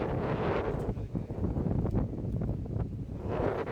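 Wind gusts buffet the microphone on the beach at Poonakari, Mannithalai, Sri Lanka, a constant loud rush with no voices.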